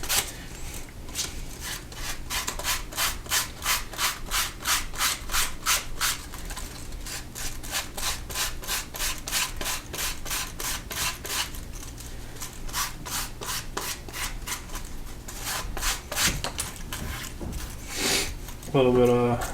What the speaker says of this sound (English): we'll rough sand it first.